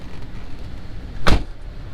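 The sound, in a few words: getting into the Chevrolet Tahoe and driving off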